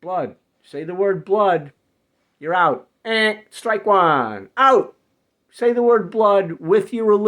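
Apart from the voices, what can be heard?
No everyday noise stands out behind the speech.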